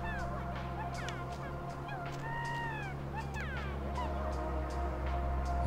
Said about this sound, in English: And there's chickens?